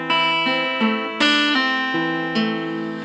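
An acoustic guitar plays the ending riff of a song alone, with a few plucked notes and chord strums ringing up close at a slow, even pace.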